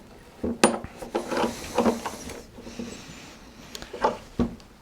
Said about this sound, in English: I'm pushing down now against the back of the sash clamp as I do that up